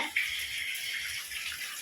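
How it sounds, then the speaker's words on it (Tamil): A steady, dense hiss of heavy rain pouring down without pause in Wayanad, Kerala, close and even throughout. "ஆமா மழை அடிச்சு ஊத்துதுங்க கேரளா வயநாட்டில் சரியான மழைங்க"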